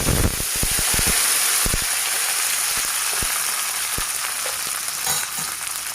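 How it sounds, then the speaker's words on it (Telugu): Chopped garlic frying in very hot oil in a pan for coriander lemon rice, a steady loud sizzling hiss with a few close spatters and utensil clicks near the start. "ఒక్క 2 నిమిషాలు ఆ తెల్లగడ్డ అంతా బాగా వేగే వరకు వేయించి"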